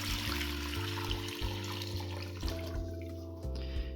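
Homemade broth made from water, vegetables and veal is poured into a cooking pot for a French blanquette, a steady, close liquid splashing and gurgling that shifts in pitch as the level rises.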